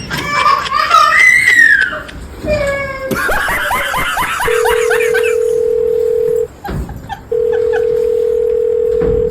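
A phone placed on a call gives a long steady ringing tone, followed after a short gap by a second one, loud and close, after excited voices are heard at the start.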